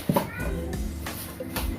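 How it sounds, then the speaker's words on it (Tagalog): A pet cat meows in a home kitchen during an espresso machine unboxing, two or three short, fairly loud cries rising briefly above steady background noise and some soft voices. "Nag-umiyaw na naman yung aking alagang pusa."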